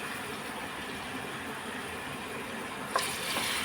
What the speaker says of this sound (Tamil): நல்லா எண்ணெயில் போட்டு வதக்கிக்கலாம்.